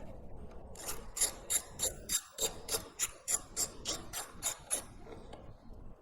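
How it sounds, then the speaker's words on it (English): A ratchet wrench clicks in quick bursts while loosening a 12 mm bolt on a Yamaha XSR900 motorcycle, with about a dozen rhythmic ratcheting strokes close up and no talking. "This is a 12 millimeter. So we'll just take this off."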